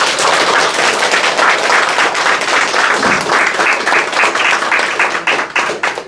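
A crowd at an outdoor political rally at Noryangjin fish market claps loudly and close, sharp overlapping hand claps in an uneven, choppy rhythm that thins slightly toward the end.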